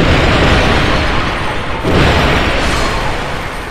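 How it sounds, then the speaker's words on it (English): A loud, sustained explosion in the Dark Souls 2 video game, a dense roaring blast that fills the whole clip with a brief dip midway before the rumble surges again, with no talking over it. "I don't know what the damage type is, though, of that explosion."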